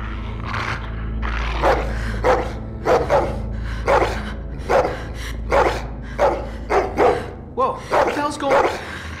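A dog in The Walking Dead video game barks repeatedly in a series of loud, close, sharp barks spaced about half a second to a second apart, continuing throughout.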